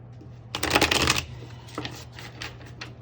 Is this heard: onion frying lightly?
no